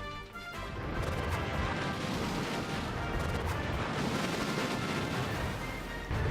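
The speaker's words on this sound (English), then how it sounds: "Be sure to avoid the explosions and the flames that crop up as a result." Rocket blasts rumble and crash almost without pause in Kirby's Return to Dream Land, a dense, loud roar of game explosions with flames crackling through it from start to finish.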